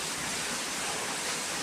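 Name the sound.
heavy rain pouring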